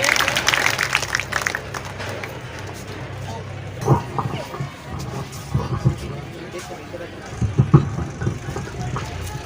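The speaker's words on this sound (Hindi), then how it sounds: "जोरदार तालियों से इनका स्वागत कीजिए" Applause from the crowd at a school annual function in Kothar, scattered claps under a busy outdoor babble of voices and distant traffic, with a few louder bursts of clapping toward the end.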